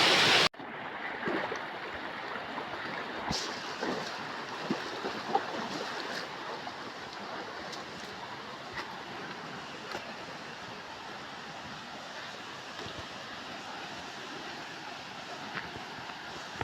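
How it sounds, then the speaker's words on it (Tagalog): Rushing water of Halat Falls heard from the trail on approach, a steady broadband roar that continues without a break throughout, moderately loud and distant rather than close. "So, naririnig na natin guys yung pagtalo ng tubig."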